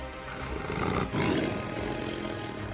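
Two male lions fighting let out deep, rumbling growls and a surging roar at close range, a continuous snarling stretch with a louder burst partway through.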